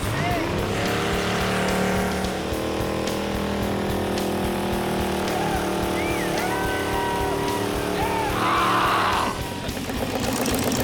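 A hearse converted into a grave-digging machine runs close by, its exhaust a loud, continuous engine roar with rising and falling revs and a rough burst of throttle near the end.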